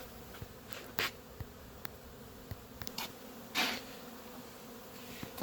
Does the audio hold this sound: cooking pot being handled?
no